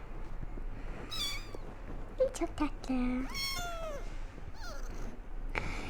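A cat meows several times, rising and falling cries close by, mixed with a person speaking softly and some background shuffling.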